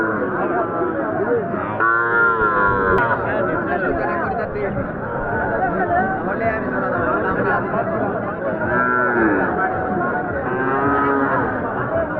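Cattle low now and then at a busy rural cattle market in Naogaon, Bangladesh, where young bulls and calves are for sale. Their calls are partly buried under constant crowd chatter and nearby bargaining voices.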